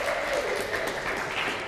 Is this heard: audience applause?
yes